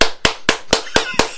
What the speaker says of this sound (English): Give a round of applause to Patrick.